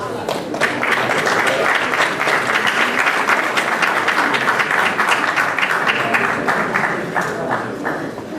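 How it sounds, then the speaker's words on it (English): An audience applauds a singer with sustained, dense clapping that stays loud throughout, with no voices standing out over it. "Give him a round of applause."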